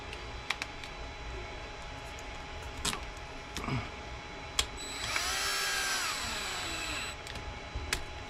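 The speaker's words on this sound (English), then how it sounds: "going to use a power tool because I can't really." A small power drill driving screws into the chassis of a HackFab mini sprint RC car, a close, rising whine lasting about two seconds, surrounded by scattered clicks and handling taps.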